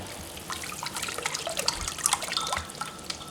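A sterilized spoon stirs homemade fermenting grape wine, giving soft, close liquid sloshes and drips with small splashes coming in irregular bursts.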